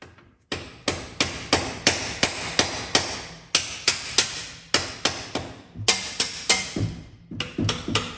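Buick 350 V8 engine with a stuck valve being turned over, heard as a series of sharp, regular metallic knocks, close and fairly loud, with a short break partway through.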